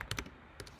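A few quick keystrokes on a computer keyboard click out close and crisp as a short command is typed in a quiet room.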